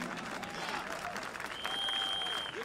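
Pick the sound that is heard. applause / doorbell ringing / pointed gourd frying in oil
applause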